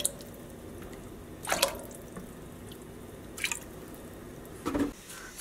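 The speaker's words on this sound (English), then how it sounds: "I'm gonna go and just pre-soak this in some plain tap water at room temperature" Tap water drips and splashes faintly as yarn is pre-soaked at room temperature in a dedicated dye pot with water and white vinegar, in a few brief separate bursts over quiet background.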